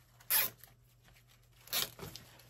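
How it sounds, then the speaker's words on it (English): A plastic zip tie is ratcheted tight on a handmade fall wreath, giving two short rasping zips about a second and a half apart, close and fairly quiet. "I'm going to take a zip tie and zip tie this down"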